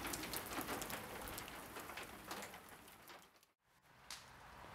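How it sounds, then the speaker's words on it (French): Sleet showers fall outdoors in near-freezing weather, making a steady, dense patter on surfaces with a brief lull near the end before the hiss resumes. "Seulement les températures presque négatives et des averses de neige fondue nous obligent à nous arrêter."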